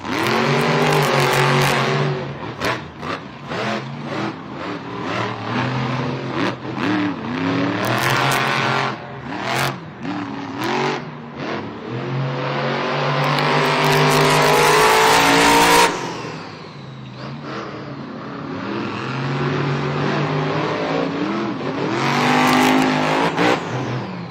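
Monster trucks race in a Monster Jam stadium event in San Diego, their loud engines revving and roaring in repeated surges, with crowd and arena noise around them and a sustained high-pitched whine in the latter half.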